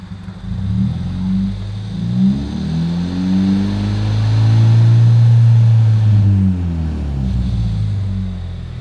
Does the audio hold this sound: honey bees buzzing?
no